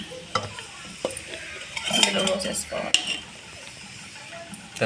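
Utensil scraping and clinking in a pan as food is stirred, with intermittent sharp scrapes over a faint sizzle.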